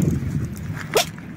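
A young dog, Oreo, gives one short sneeze outdoors on a cold walk, a quick sharp burst in the middle of a faint background of shuffling and footsteps.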